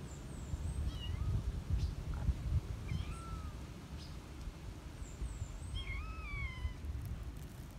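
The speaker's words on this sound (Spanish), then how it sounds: "Tenemos un gatito," A kitten near a cornfield gives several thin, rising-and-falling meows, a few early on and a clearer cluster near the end, over a steady low outdoor rumble.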